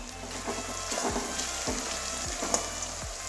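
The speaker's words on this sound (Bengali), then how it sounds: "পেঁয়াজটা বাদামি কালার পর্যন্ত ভাজবো" Salted onions fry in a pan with a steady close sizzle, broken by a few soft stirring strokes at regular intervals.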